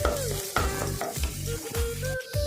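Rice for kheer fries and sizzles in a pan while a spoon scrapes and stirs it in steady, rhythmic strokes, close and loud.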